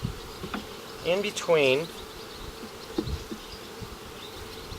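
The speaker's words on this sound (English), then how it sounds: "there are some seriously pissed off bees at this point" A mass of agitated honey bees buzzes steadily at close range while being installed into a new hive, with louder wavering passes as individual bees fly past and a voice speaks briefly.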